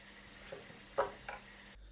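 Cassava (kappa) pieces frying in hot oil for a chilli garlic dish give a faint, steady sizzle, broken by a few short clinks or scrapes near the pan. No one speaks.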